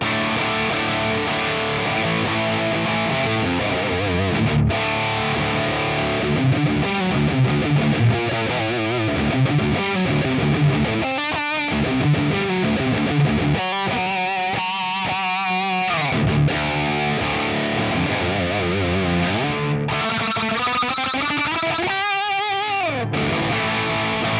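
A high-gain electric guitar played through ML Sound Lab Roots plays thick distorted chords and sustained riffs, with a few brief pauses, loud and upfront with no voices.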